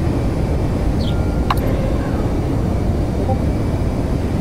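Steady jet engine roar from an aircraft climbing after takeoff in the DCS flight simulator, a constant broadband rumble throughout with no talk.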